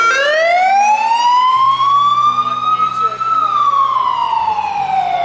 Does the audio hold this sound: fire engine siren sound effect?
yes